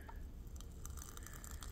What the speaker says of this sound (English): I'm going to add some water here.